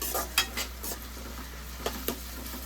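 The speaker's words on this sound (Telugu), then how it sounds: "ఇలా ఫ్రై ఫ్రై అవుతూ ఉంటాయి కలుపుకుంటూ ఉండాలి" Prawns and curry leaves fry in a pan for a gongura prawn curry, a faint steady sizzle with a few light spoon scrapes and clinks as they are stirred.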